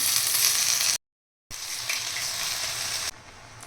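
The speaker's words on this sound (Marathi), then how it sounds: "डाळ छान फ्राय झाल्यानंतर इथे मेथी टाकून घेऊया" Fenugreek leaves hit hot oil and fried dal in a pan with a bright, crackling sizzle that drops out briefly, then resumes and softens toward the end.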